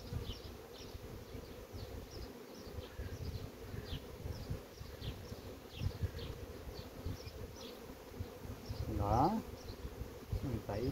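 Honeybees at the hive hum steadily in a dense, close buzz, with faint handling noises and a louder pass near the end.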